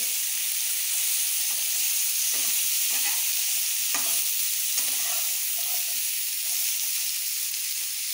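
Vegetables for veg hakka noodles fry in a hot pan, giving a steady loud sizzle and hiss with occasional stirring scrapes, no voices.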